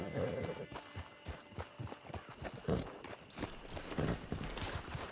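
Horse hooves clip-clopping in Red Dead Redemption 2, a steady irregular run of close hoof strikes with a soft whinny and faint background game sounds, some quiet talk in the mix.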